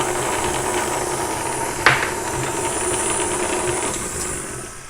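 A stand mixer running on low speed blends pumpkin chocolate chip cookie dough with an added egg, giving a steady mechanical whir and hiss throughout, with one sharp knock partway through.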